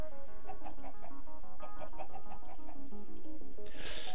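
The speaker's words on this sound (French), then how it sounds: "pourquoi est-ce qu'on entend des poules aux alentours?" Chickens cluck repeatedly in the Minecraft video game, short evenly spaced calls over a constant backdrop of game audio, ending with a brief noisy burst.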